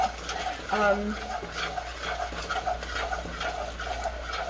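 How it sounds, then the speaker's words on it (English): Caramel being stirred in a large pot scrapes and swishes in an irregular rhythm, with a soft bubbling sizzle and light metallic knocks of the utensil against the pot, close and fairly clear. "make sure that you keep stirring it, and this will make sure that it doesn't boil over"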